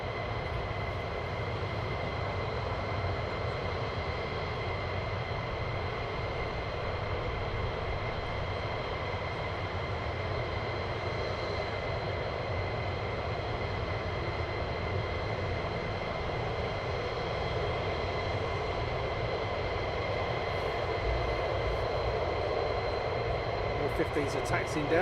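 Military F-15 fighter jets taxi at RAF Lakenheath, a steady, distant engine drone and whine holding for the whole stretch with little change in level.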